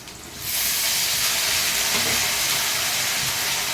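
Tomatoes dropped into a hot pan of sautéed onion and garlic for a spicy tamarind kuzhambu, setting off a sudden loud, steady sizzle that hisses on without pause.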